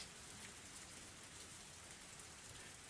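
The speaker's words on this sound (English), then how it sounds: "Even in this torrential downpour, Rena was still apologizing." Torrential rain pours down in a steady, dense hiss, a constant even downpour with no voices over it.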